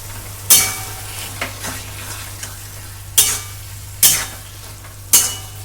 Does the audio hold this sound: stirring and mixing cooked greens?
yes